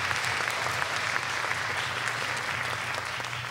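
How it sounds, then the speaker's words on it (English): Audience at a spelling bee applauding the judges with a sustained, even round of clapping from a room full of people, filling the whole stretch without speech. "let's give our judges a warm round of applause."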